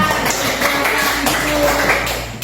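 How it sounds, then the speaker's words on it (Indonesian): Classroom of students clapping for a group, a short burst of fairly close, loose applause over a noisy room. "Tepuk tangan dulu untuk kelompok 3."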